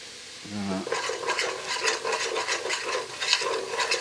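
Flour stirred into a sizzling soup pot with garlic for potato and bacon soup, a short clink then continuous scraping and frying crackle close up, with no speech.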